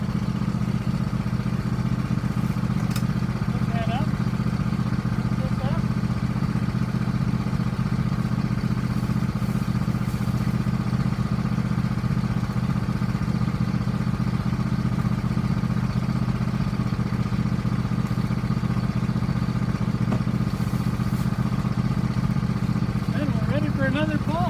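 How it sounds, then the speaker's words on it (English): A tractor hauls a homemade pond muck removal device, its engine holding a steady, continuous mid-range drone throughout, loud and close, with faint clatter on top and no talking. "in this next little clip, you'll hear the tractor"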